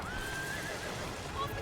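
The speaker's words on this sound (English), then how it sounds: "The horses!" Horses neighing in an animated fantasy battle scene, a single drawn-out whinny rising and holding across the clip, followed by a shorter high call near the end, over a dense rumbling background of combat noise.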